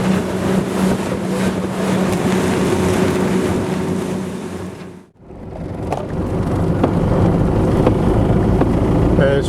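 Land Rover driving along an outback road in a small convoy with other Land Rovers, a loud steady engine and road rumble with heavy wind buffeting, briefly dropping away midway before resuming.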